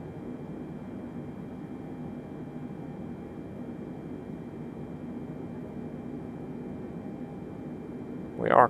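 Boeing 747 in a flight simulator game gaining speed in flight, a steady droning engine and airflow hum holding level throughout, ending with a brief sharp click or blip.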